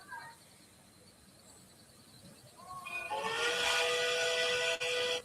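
A flat top steam whistle on a locomotive in the Minecraft Immersive Railroading game: after a faint, quiet start it swells into a loud, sustained, harmonically rich blast with a steady hiss behind it.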